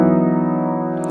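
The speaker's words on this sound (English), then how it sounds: "If I was playing it notes that are a lot more clustered, you get some sound like this" A tightly clustered chord held on a keyboard, ringing steadily and fairly loud with a slow, gentle fade across one sustained tone.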